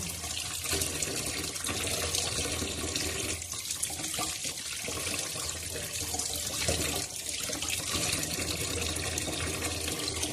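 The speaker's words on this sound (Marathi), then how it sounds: "आपण छान असे बांगडा मच्छी स्वच्छ असे धुतलेले आहे" Tap water runs steadily into a sink while bangda (mackerel) fish are washed, a continuous close splashing flow with no talk.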